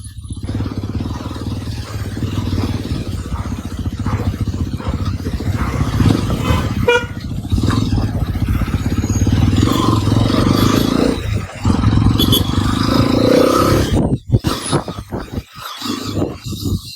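A Hero Xpulse 210 motorcycle being ridden: a steady, loud engine drone with road noise, a few short horn-like toots and scrapes, and a brief dip near the end.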